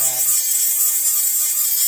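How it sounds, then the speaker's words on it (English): A Milwaukee M12 Fuel 2522-20 3-inch cordless cutoff tool, used for edge grinding, whines steadily at high speed, a continuous grinding buzz with a bright, even tone throughout. "I also use this as a grinder for getting into places and just do an edge grind"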